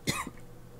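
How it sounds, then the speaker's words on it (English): A short, close cough burst followed by a second smaller cough, then quiet room tone. "Hold on, I gotta cough some more."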